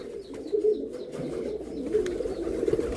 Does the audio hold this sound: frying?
no